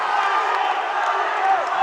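Arena crowd cheering on fighter Molly McCann during a bout, a steady loud roar of voices and shouts filling the whole stretch without a break.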